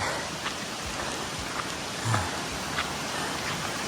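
Continuous rain falls on a mountain trail at nightfall, a faint, even wash of drops with occasional closer taps and soft thumps.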